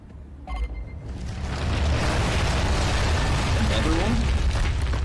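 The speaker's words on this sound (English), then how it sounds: "One more grenade after this." In the video game Gears of War, a grenade blast swells into a loud, sustained rumbling roar that fills the back half of the moment, with a voice talking over it.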